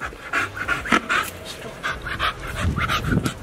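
A large dog pants close up in rapid, rhythmic breaths, with a few soft whimpers and shuffling sounds around it.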